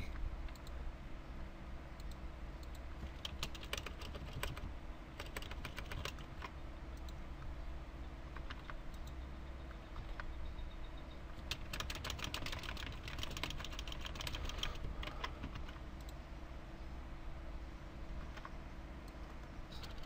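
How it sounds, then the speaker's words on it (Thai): Typing on a computer keyboard while coding an HTML and CSS website, a steady run of light clicking keystrokes with denser bursts midway, over a constant low hum. "ากนั้นเราจะมาลองพิมพ์ดูว่ามันได้ไหม"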